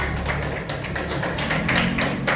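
Children in a classroom clap together in quick, fairly rhythmic bursts, a close, steady patter of small hands.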